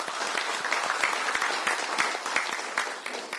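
A crowd at a political campaign rally in Gwangju claps warmly and steadily, dense hand claps filling the full few seconds at a fairly even level.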